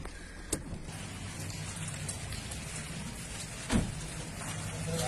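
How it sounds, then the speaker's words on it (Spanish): Steady rain patters continuously, with a couple of brief dull thumps partway through. "ya nos tocó con harta agua. Está lloviendo."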